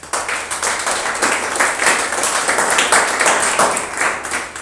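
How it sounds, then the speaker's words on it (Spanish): A church congregation applauding during a Sunday sermon, dense sustained clapping from many hands filling the room at close range. "Den un aplauso"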